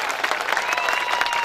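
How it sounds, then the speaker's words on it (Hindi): Loud, dense applause from a large audience welcoming an MLA onto the stage at a public speech event in Rajasthan, steady and continuous throughout with a faint crowd murmur. "एक बार जोरदार तालियों से स्वागत किया जाए"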